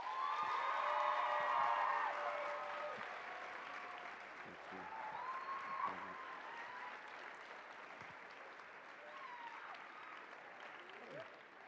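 An audience of students at a school assembly applauds to welcome a speaker, sustained clapping mixed with scattered whoops and cheers that gradually thins out.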